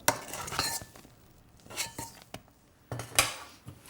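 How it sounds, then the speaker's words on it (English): A spoon folds cocoa, vinegar and chocolate into meringue in a bowl, giving a few scattered clinks and scrapes against the bowl with soft stirring between them and no talking. "Just keep turning the spoon round and down until everything is gently combined."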